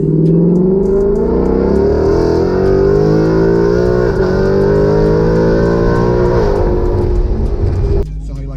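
A 500hp 2020 Ford Mustang 5.0 drives under load with a loud, droning engine note that rises and falls smoothly, heard from inside the car. It eases off near the end.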